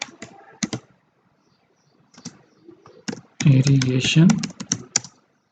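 Computer keyboard typing of a map title in QGIS: a few scattered key taps, then a dense run of quick keystrokes under a person speaking, trailing off into single clicks.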